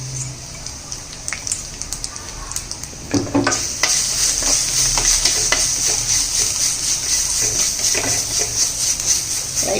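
A ground paste of black pepper, cumin and garlic is lightly sautéed in a pan for horse gram rasam. A soft sizzle with stirring scrapes swells into a loud, steady hiss after a few seconds and continues close by.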